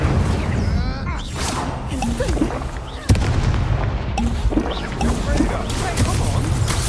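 An Incendio fire spell cast in a video game gives loud, dense bursts and crackling blasts over a steady rumbling backdrop, with a sharp impact midway and a person talking throughout.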